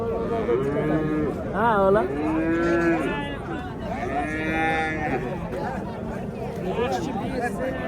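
A young bull lets out several close, drawn-out moos at a livestock market in Karshi, with people talking nearby in between.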